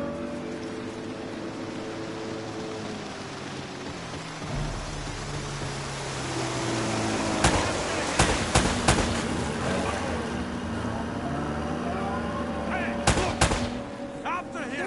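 Gunfire in the video game Uncharted, scattered sharp shots and short bursts cracking over water-like ambience and a low rumble, growing denser midway with brief voices in between.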